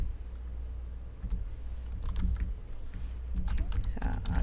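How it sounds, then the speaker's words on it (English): Fingers type on a computer keyboard while entering slide text in PowerPoint, a faint run of soft, irregular key clicks over a low background hum. "So I'll just type this out."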